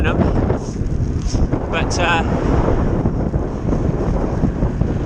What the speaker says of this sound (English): It's been a cheeky little headwind since Burnham